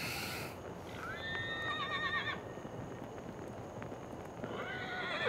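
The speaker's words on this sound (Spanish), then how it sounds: "¡Un caballo!" A horse whinnies loudly in a drawn-out neigh, then a second whinny follows near the end, with hooves clip-clopping underneath against a quiet outdoor background.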